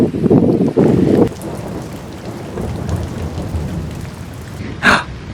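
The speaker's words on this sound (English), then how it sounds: "and then I heard the thunder." Heavy rain pours steadily onto surfaces at the seaside with rolling thunder, loud at the start and settling into a constant downpour, with a sharp crack near the end.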